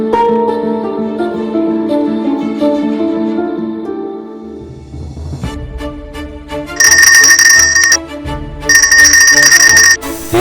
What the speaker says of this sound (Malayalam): ഫോൺ റിങ് ചെയ്തു